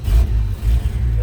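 An all-original 1951 Chevy 3100 pickup is cranked on its foot-pedal starter with a little throttle, a loud, close low chugging in uneven pulses over about a second.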